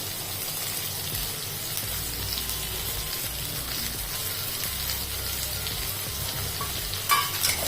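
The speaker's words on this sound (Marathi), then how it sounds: "छान परतवून घ्यायचं आता आपल्याला हे इथे कांदा छान असा परतन झालेला" Onion, green chili and curry leaves sauté in oil, giving a continuous close sizzle with soft stirring and a brief clink of utensils near the end.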